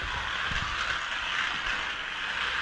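A steady, whirring mechanical buzz of small electric motors of 1/43 Carrera Go slot cars on track runs continuously with a faint rattling texture, fairly loud and unbroken throughout.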